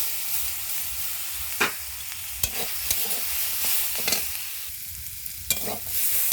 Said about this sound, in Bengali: নাড়াচাড়া হয়ে গেলে আমরা এতে সর্ষে বাটা দিয়ে দেবো